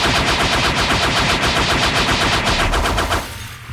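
Rapid cannon fire from a Roblox Blox Fruits character's attack, a fast, even stream of loud bursts that runs for about three seconds before cutting off into quieter game sound.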